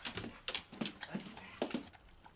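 A dog whimpers in a series of short, high, whining cries spaced through a couple of seconds, close by and fairly quiet, with no talk over it.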